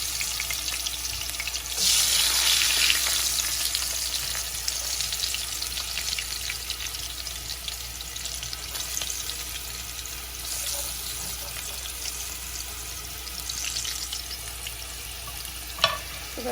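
Fish frying in a pan, a steady sizzle with faint stirring and water sounds running throughout, no voices.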